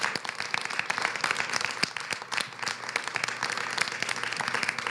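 A crowd at a Women's History Month event in Albany claps in sustained applause, dense and even, with sharp individual claps over the mass and no talking.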